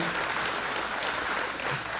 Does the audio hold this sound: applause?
yes